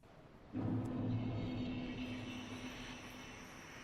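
A scary noise effect from the Dreamcast horror game Illbleed: a sudden low rumbling swell with a droning tone that starts abruptly and slowly fades, fairly quiet and heard alone.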